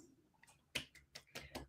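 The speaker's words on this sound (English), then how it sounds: "some finger snaps for our panelists" A scattered audience at a nonprofit panel snaps fingers in a loose run of sharp, crisp clicks, a few isolated at first, then several quick ones close together, with no talk.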